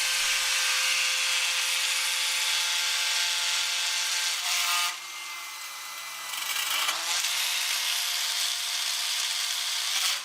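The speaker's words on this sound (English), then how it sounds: "drill holes on the outside of each of those corners" A power drill drilling holes in sheet metal whines steadily at high speed, briefly dropping in pitch partway through, then spinning back up and running on.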